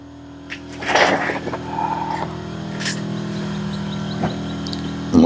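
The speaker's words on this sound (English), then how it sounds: "Now that stupid compressor's on." A shop air compressor runs steadily beside a Troy-bilt push mower being repaired, a loud constant motor hum with a rhythmic pumping drone, briefly overlaid by a few short clatters.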